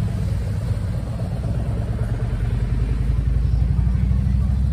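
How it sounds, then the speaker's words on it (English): Motorcycles rumble steadily close by as a group of bikers arrives at a Christmas Day toy delivery, with a continuous low engine drone and no clear talking. "Oh, here comes some more bikes."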